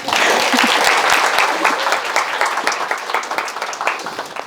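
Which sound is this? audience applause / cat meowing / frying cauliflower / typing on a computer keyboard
audience applause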